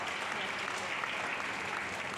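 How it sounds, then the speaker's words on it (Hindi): Dense, steady applause from a large crowd, many hands clapping at once throughout. "वेरी गुड, इतनी जोरदार तालियां रखती हैं।"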